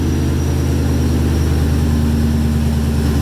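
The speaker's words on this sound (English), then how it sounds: "So we are running. I got no mufflers on, so she's running long tubes with straight pipe" A Ford GT500 engine with long-tube headers and straight pipes and no mufflers runs in a loud, steady, deep droning idle rumble, close up and continuous.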